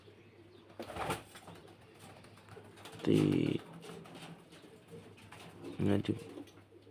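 Low, soft cooing of pigeons comes in short bursts, a few seconds apart, with quiet talk and rustling nearby.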